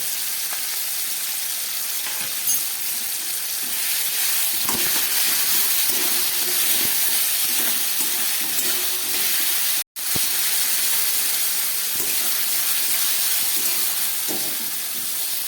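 Ridge gourd fries in a pan, giving a loud, steady sizzling hiss with occasional stirring clinks and one brief dropout, with no talk.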